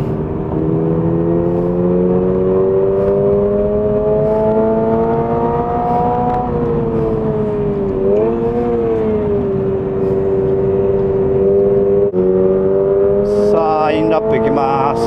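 Toyota GR86 / Subaru BRZ prototype sports car lapping a race track, its engine droning loud and steady as revs climb through gears, dipping briefly under braking, then rising again with a sharp rev near the end.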